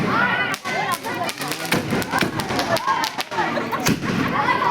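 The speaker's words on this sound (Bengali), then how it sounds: "তারপরে আমি বাজি ফাটালাম" Firecrackers burst at a wedding reception, a rapid string of sharp cracks and thuds mixed with crowd noise and people talking nearby.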